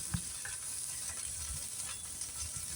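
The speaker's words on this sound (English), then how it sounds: "Then let's hear that sizzle." Steady crackling sizzle of panela cheese frying on a hot oiled grill, with a few faint scrapes, continuous and close.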